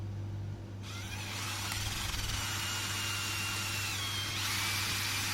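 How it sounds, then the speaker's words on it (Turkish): A drill-mounted hook-and-loop power sander with coarse 40-grit paper whirs steadily, grinding against pallet wood with a continuous rough hiss over a low motor hum, loud and close, with no voices. "Ve zımparamızı denemeye başlıyoruz."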